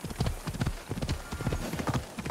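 Horse hooves clip-clop in Assassin's Creed Odyssey, a steady rhythmic series of close, clear hoofbeats trotting along, with a faint whinny-like hint in the mix.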